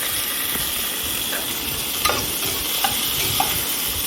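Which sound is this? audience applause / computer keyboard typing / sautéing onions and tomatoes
sautéing onions and tomatoes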